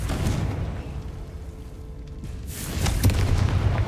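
A Confringo blasting spell explodes in the Hogwarts Legacy video game, a heavy low boom that rumbles steadily and swells into a louder burst near the end, with no voices.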